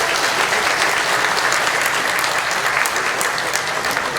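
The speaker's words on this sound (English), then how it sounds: "If we can give them a round of applause as well" Dense, steady applause from a festival crowd at a Hmong community festival in Wausau, continuous clapping filling the whole stretch at even loudness with no talk over it.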